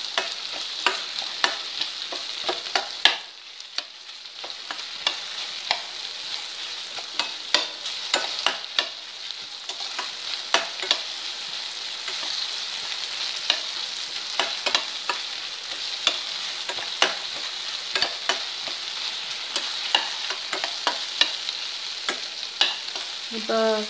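Okra stir-frying in a pan for a poriyal, with a steady sizzle under repeated scraping and stirring strokes of a spatula, close and continuous for the whole stretch.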